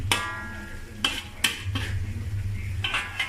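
Tomato spicy chicken is stirred in a pan on a medium flame. A utensil gives a few sharp clanks against the metal between stretches of softer scraping and stirring, up close.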